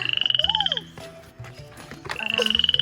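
Golden yellow frog kept as a pet in Thailand, croaking in loud, rapid pulsed trains, a burst at the start and another at the end with quieter rustling between.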